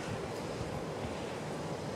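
Seafront waves and wind, a continuous broadband wash of surf with gusting wind buffeting the microphone, steady and fairly close, no talking.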